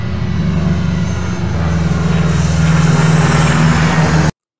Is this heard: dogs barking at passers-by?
no